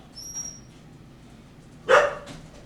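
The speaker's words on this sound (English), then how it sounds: "My dogs are going crazy." Several house dogs bark in a sudden loud, close burst, preceded by a faint high whine, with the rest of the clip quiet and nobody talking.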